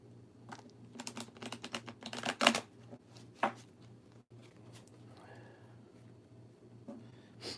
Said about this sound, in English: Do a little bit of shuffling.